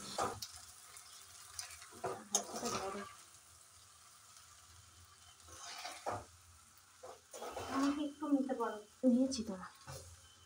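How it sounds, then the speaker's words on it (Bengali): Pasta is stirred as it fries in a pan over lowered gas, giving soft, quiet scraping and sizzling between stretches of someone speaking. "তারপরে একটু ভাজা ভাজা হওয়া অবধি আমরা এটাকে নাড়তে থাকবো।"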